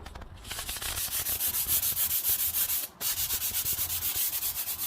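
Rapid back-and-forth scraping of a square hand sander on a hardwood floor, a steady rhythmic rasp of many strokes with one brief pause, close and loud with no talking.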